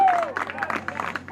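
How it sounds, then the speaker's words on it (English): At a high school baseball game between Colfax and Elk Mound, a crowd murmurs and cheers in rising waves after a long hit, with scattered claps and voices blending into a moderate, somewhat distant roar. "I was kind of basing it on the crowd reaction"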